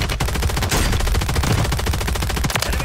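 Rapid automatic gunfire in Call of Duty, dense bursts of loud shots rattling continuously for a few seconds with no talk over them.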